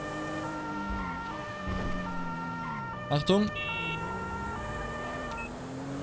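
A police car siren wails in GTA 5, a steady wavering electronic tone with road noise underneath, while a voice briefly speaks over it.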